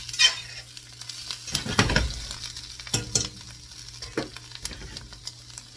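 Onions frying in a pan for an omelette, a steady sizzle with a few louder stirring scrapes and clatters partway through, close and alone with no talk.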